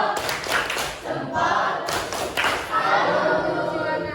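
A class performs a rhythmic clapping routine to salute a student group, bursts of many hands clapping and thumping in sequence separated by brief pauses, with voices speaking between the claps.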